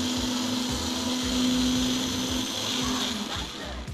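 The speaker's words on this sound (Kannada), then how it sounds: "ಈ ಕಡೆ ನಮ್ಮ ಮಿಕ್ಸಿ ಒಳಗೆ 4 ಮೆಣಸಿನಕಾಯಿ, ಆಮೇಲೆ 1 ಇಂಚಷ್ಟು ಶುಂಠಿ" A kitchen mixer grinder whirs as it blends four green chillies with an inch of ginger, a loud, steady motor drone with a rhythmic churning rattle underneath, running continuously before easing slightly at the end.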